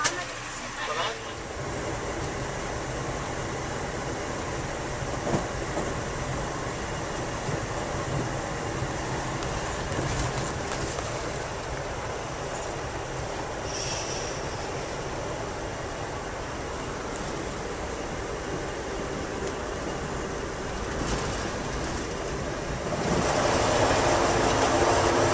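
Steady rumble and rattle inside a moving passenger train approaching Rocky Mount, continuous for the whole stretch with a slight swell near the end, and a voice speaking faintly at times.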